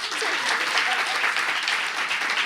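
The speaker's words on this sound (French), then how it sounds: "est-ce qu'on peut l'ovationner pour moi, s'il vous plaît?" A live audience at a French entertainment show breaks into a dense, loud ovation, the applause sustained evenly from start to finish.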